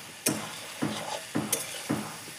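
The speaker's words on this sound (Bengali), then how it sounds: "আগে থেকে ভেজে রাখা আলু আর সয়াবিনটা দিয়ে কষিয়ে নেব।" Spices being stir-fried with already fried potatoes and soybean chunks over a wood fire, heard as four or five spaced scraping stirs over a low, quiet sizzle.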